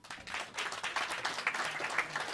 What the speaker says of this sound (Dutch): Even een applausje.